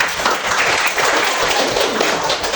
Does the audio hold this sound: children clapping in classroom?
yes